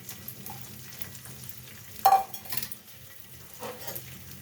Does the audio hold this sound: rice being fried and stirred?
yes